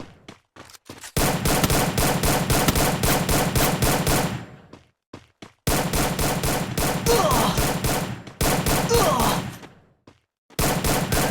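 Gunfire in a Free Fire video game match: long, loud bursts of rapid automatic shots, broken by short gaps and a few single shots between volleys.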